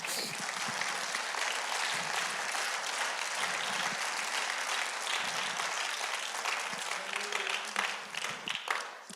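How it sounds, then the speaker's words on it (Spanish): A church congregation gives steady applause during a sermon, with dense, sustained clapping and a few brief voices rising through it near the end. "Denle un aplauso"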